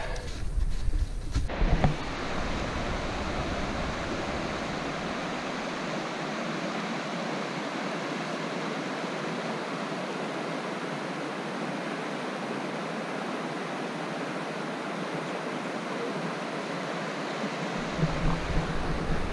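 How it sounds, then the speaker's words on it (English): Steady rushing water flows continuously, a broad even hiss that fills the whole stretch, with a few brief louder bumps at the start and end. "I love the sound of just water"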